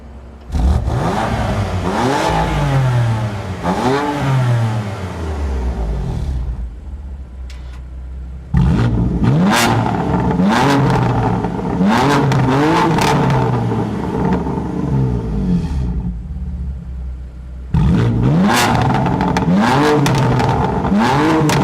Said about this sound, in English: this thing has a beefed up M performance exhaust